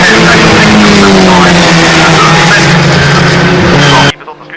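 Historic Formula Ford race cars racing at Brands Hatch, a loud, dense engine roar with rising and falling pitch that cuts off abruptly near the end, heard under a commentator's voice.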